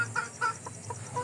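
A black hen clucks just after laying an egg, giving a short run of several close, moderately loud clucks at an uneven rhythm against a steady low background hum.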